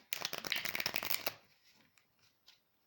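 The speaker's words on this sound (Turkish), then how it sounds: "Öncelikle bir destemizi karıştıralım." A standard deck of playing cards riffled in one quick, loud burst of rapid flutter lasting about a second, then a few faint taps as the cards settle.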